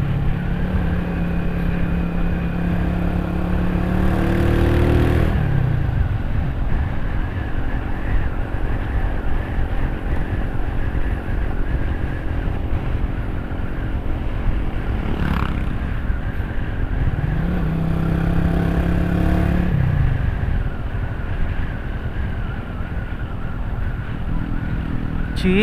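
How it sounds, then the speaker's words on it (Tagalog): A loud, raspy motorcycle engine with a holed exhaust drones steadily while riding, with pitch rising and falling as it shifts and revs. "Sa akin kasi may butas na itong tambutso ko,"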